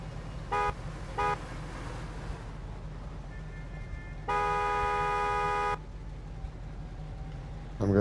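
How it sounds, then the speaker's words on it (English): A car horn honks in the video game Mafia II, two short toots followed later by one long held blast, over a low steady engine idle. "Okay, now honk your horn"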